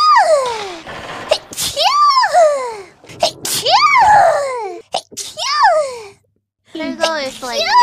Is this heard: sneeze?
yes